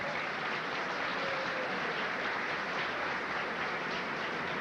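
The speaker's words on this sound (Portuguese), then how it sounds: "Uma salva de palmas para o Vitor." Sustained applause from a large audience fills the space as a dense, even wash of clapping heard from some distance, holding steady without breaks for nearly five seconds.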